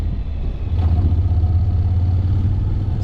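A 2014 Honda CTX700 DCT motorcycle engine pulls in second gear in manual mode, a close, steady low drone that swells slightly after a moment and holds without speech.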